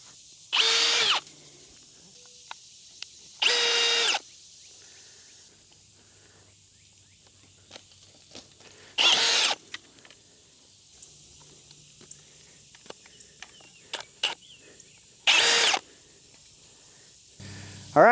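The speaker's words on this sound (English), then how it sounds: "You just kind of put them around the post and then you twist them on with a drill." Four short, loud bursts of a power drill twisting clips onto metal T-posts for a fence, spaced a few seconds apart, with quiet pauses and faint clicks and rustles between them.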